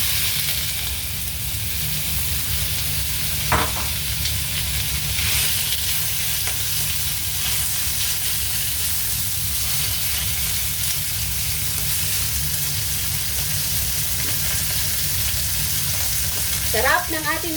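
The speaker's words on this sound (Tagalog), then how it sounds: "So, ipiprito natin yung ating sahog." Sahog sautéing in a pan as the base for Filipino mung bean stew (monggo), a steady close sizzle and crackle of frying with occasional stirring scrapes, no talking.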